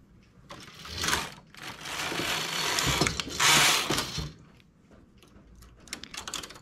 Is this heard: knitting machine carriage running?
yes